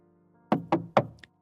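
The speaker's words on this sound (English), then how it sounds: "A knock on the door sounds and Vincent enters carrying a file." Three firm knocks on a door in a drama scene, evenly spaced, loud and close, each with a hollow thud, followed by a faint tap.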